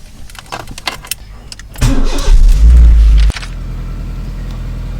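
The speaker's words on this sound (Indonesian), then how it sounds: "kita coba nyalain dulu mobilnya" An automatic car with a delayed Drive engagement cranks and fires up: a loud burst of starter whir and catching engine, then settling into a steady, fairly loud idle rumble, with no talking.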